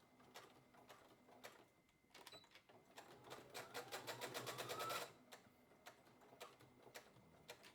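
A domestic sewing machine runs a straight stitch on sweatshirt fabric, a fast even mechanical rattle building for a few seconds, then stopping, with scattered handling clicks before and after.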